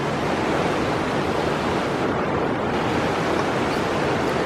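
A river flowing along a countryside walking route near Sedbergh makes a steady, loud, close rushing wash of water that holds constant throughout, with no voices.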